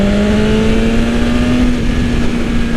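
Loud engine drone of a 2020 BMW S1000RR motorcycle pulling hard in 4th gear while riding, a steady high whine climbing slightly in pitch with wind roar underneath, close and continuous.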